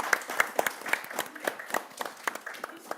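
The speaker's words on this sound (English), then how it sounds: "I want to give you one last round of applause." An audience applauds panelists at the close of a maternal health discussion in Bergen, with a moderate spread of hand claps over about three seconds, some louder claps standing out near the front.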